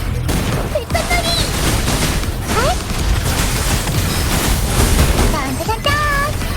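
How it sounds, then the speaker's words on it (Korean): Fireworks bursting amid a loud action-game battle scene, with rapid crackling, booming explosions and whistling streaks layered over dense noise and voices throughout. "불꽃놀이."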